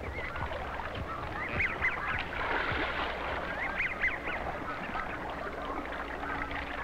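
A goose honks repeatedly in short nasal calls spread across the clip, heard outdoors over a steady background of wind and ambient noise, with no talking.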